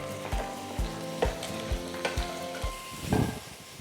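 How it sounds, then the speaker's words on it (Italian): Seafood sizzles in a pan as white wine is added. A steady close hiss of frying is broken by a series of regular clattering stirs, then a louder surge of bubbling near the end. "Sfumiamo con del vino bianco e lasciamo cuocere."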